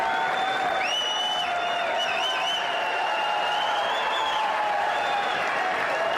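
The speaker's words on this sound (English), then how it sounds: "They're still applauding him." Sustained applause from a large crowd of members of Congress for a speaker, steady and dense throughout, with some cheering and tonal sounds riding above the clapping.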